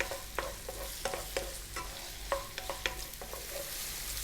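Sliced red onions and garlic fry in a pan with a steady sizzle, broken up by scraping stirs and light clicks of a utensil, close and without any voices.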